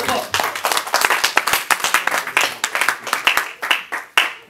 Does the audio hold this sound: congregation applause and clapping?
yes